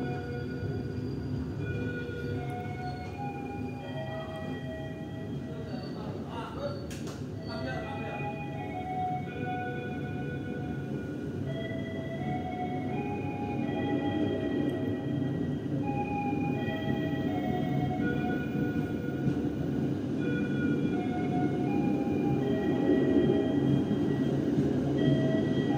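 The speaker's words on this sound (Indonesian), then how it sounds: "kereta api Turangganya menanti kedatangan kereta api Kahuripan untuk masuk ke jalur 1 stasiun Banjar." At Banjar station, the Kahuripan economy passenger train pulls into track 1 with a low rumble of wheels and cars that grows louder. Drawn-out metallic squeals and tonal whines ring above it, with no talking.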